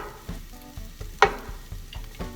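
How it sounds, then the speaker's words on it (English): Garlic fries in about three tablespoons of olive oil, a soft steady sizzle up close, punctuated by regular light taps and one sharper clink of a utensil against the pan. "I'm putting in the garlic, and when it turns brown a little bit, I'm gonna be putting some tomatoes."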